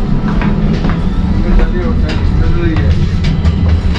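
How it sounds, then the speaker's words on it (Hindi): A passenger train in motion near Istanbul, with a steady low rumble and rolling noise filling the carriage and faint rail clicks. People talk in the background throughout. "हम ट्रेन में बैठ चुके हैं हम और अपनी मंजिल के लिए रवाना हो गए।"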